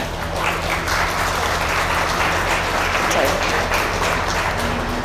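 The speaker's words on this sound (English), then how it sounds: "Let's give them a round of applause." Sustained applause from an audience at a 2022 elite livestock showmanship competition, dense steady clapping filling the whole stretch, with faint voices mixed in.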